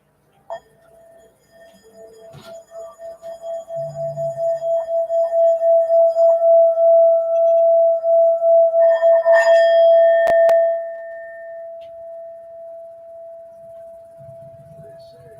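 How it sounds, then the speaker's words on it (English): A singing bowl rings out with one sustained, steady tone that swells gradually as it is rubbed, holds loud, then fades into a long, quieter resonance, with a brief clink partway through and faint voices low in the background. "We're going to go ahead and use the sound bowl today."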